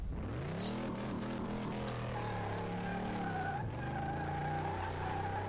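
Car drifting near a guardrail, its engine whining and rising and falling in pitch through the slide, with tire skid noise carrying steadily and loudly throughout.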